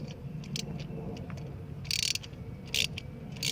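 Ratchet clicking in short bursts while turning a spark plug on a 2005 Hyundai Tiburon 2.0L, close and crisp over a quiet background hum, with pauses between pulls.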